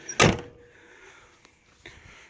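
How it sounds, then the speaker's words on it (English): A 1975 AMC Matador with a 304 V8 has one of its doors shut with a single sharp, close thunk, followed by fainter latch clicks and a light knock about a second and a half later. "Doors open and shut good."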